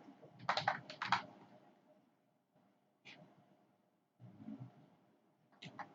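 Quiet computer keyboard typing comes in short bursts of rapid keystrokes with pauses between, close and faint, while React Native code is being written.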